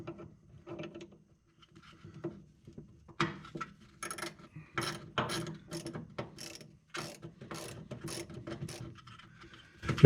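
A 3/8-inch drive ratchet with a 6-inch extension and 1/2-inch socket clicks in repeated bursts of rapid pawl ratcheting, close and fairly loud, while working under a 1966 Ford Mustang, with short pauses between strokes.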